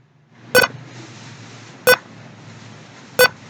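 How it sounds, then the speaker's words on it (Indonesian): A small buzzer on a microcontroller board beeps on each number change: three short, sharp beeps about 1.3 seconds apart over a faint background hum, with no talking. "buzzernya menyala setiap perubahan angka"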